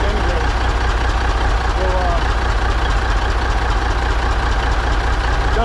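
A 1983 Kenworth cabover truck's diesel engine idles with a steady low rumble and slight shake throughout, fairly close, while someone talks over it.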